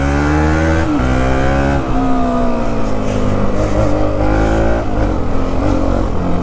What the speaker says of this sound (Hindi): ऐसा लग रहा है जैसे कि क्विक शिफ्टर वाली बाइक चला रहा हूँ मैं